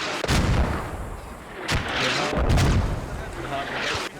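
Mortar rounds fire in a squad-based shooter video game, several deep booming thumps at irregular intervals, loud and close, with voices talking over the blasts.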